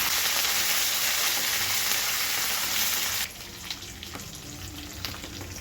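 Curry leaves hit hot oil for lemon rice, producing a loud crackling sizzle that suddenly drops to a quieter, steady fry partway through, with a few light pan knocks afterward.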